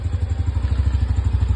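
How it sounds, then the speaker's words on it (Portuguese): The engine of a new Honda Biz 125 motorcycle with 77 km on it idles close by, giving a loud, steady, rapid low thumping with a ticking clatter on top. "Olha o barulho que faz esse motor, hein?"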